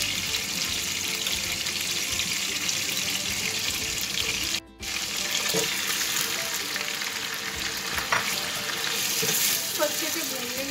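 Chicken fries in a pan for an onion karahi, a loud, close, continuous sizzle with stirring scrapes and a brief drop near the middle.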